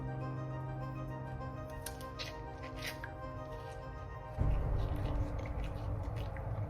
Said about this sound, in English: not really sure what I'm supposed to do with the rest of this sugar cane, but I guess I'll just keep chewing.